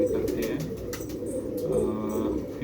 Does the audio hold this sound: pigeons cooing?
yes